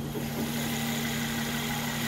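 A V6 car engine idles steadily, giving a low, even hum with a constant drone. There are no revs or changes in pitch, and no voices can be heard.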